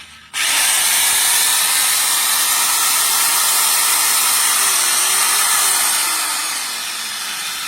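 A heavy-duty 7-inch RSK circular saw motor starts up and runs at a high, steady whine, loud and close, without cutting, easing slightly near the end.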